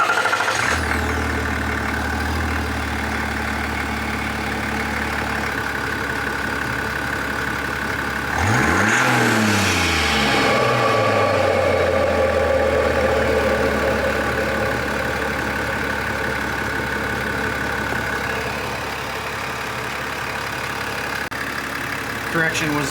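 A 3.0 Duramax diesel Silverado fitted with an S&B intake fires up with a brief cranking sweep and settles into a steady, loud, close idle that runs unbroken for many seconds.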